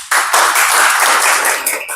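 A dense burst of audience applause at a debate contest starts abruptly and holds steady and loud, many hands clapping together for about two seconds before thinning slightly.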